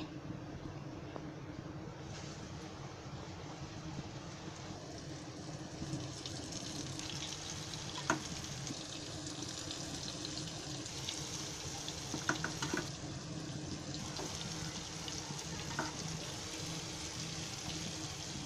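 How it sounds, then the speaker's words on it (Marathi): Flour-coated kupa tuna fish pieces frying in hot oil over a lowered gas flame, a steady close sizzle and crackle running throughout with occasional sharper pops, no talking. "हे पिठामध्ये असे डबून 1-1 तेलामध्ये सोडते"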